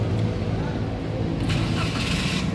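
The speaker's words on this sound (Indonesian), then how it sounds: "sekarang coba kita nyalakan mobil" A 2016 Daihatsu Ayla 1.0 manual hatchback is cranked and fires up, the low engine rumble settling into a steady idle with a brief rise partway through, heard fairly close without talk.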